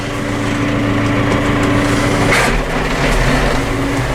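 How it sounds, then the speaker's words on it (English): A lawn mower engine runs loud and close for haymaking, a continuous steady drone that swells slightly as it revs, with no talking. "I'm going to do a little bit of mowing"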